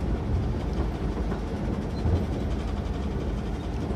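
A TER Normandie regional train runs on rails between Lisieux and Pont-l'Évêque, a steady low rumble with faint wheel-on-rail texture, heard close from on board and continuous throughout.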